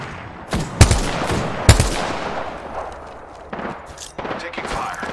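Gunfire in the video game Apex Legends comes as two loud, close blasts with a booming low end, then a tail of rapid shots and more bursts. Game voice callouts run among the shooting.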